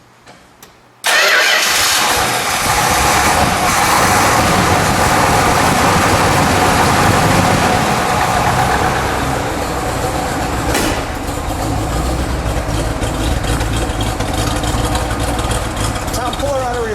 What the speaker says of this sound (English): We'll start this one back here. I want to let you listen to that start up.